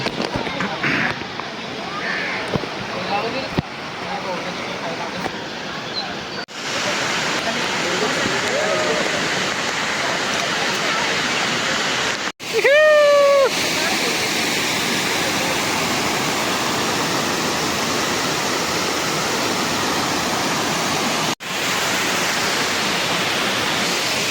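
A waterfall in heavy monsoon rain roars with a loud, constant rush of falling water, close by, with a brief whistling tone partway through.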